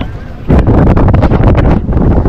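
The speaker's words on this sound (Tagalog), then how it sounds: "May bugso talaga na 42 kph ang bugso ng hangin" Strong gusts of wind at sea, around 42 kph, batter the microphone from a small tuna-fishing boat in loud, roaring bursts, with a dull rumble underneath, rising abruptly after a quieter moment.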